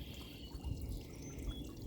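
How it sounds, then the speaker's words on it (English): Water trickles and drips steadily in a small garden water feature built from old bricks or paving stones, a soft, continuous splashing heard close by with no talk. "So here is my water feature."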